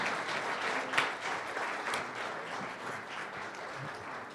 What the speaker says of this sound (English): It's truly been a big round of applause.